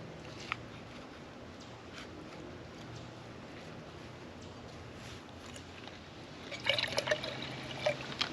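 Water trickling and splashing steadily, growing louder and brighter toward the end as it pours onto a hard surface, a skillet outdoors on a cold morning, with no voices.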